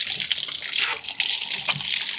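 Water gushes from a hand pump near Kankesanthurai and Palali, a loud, continuous splashing rush with brief surges as the pump is worked, heard up close with no talking.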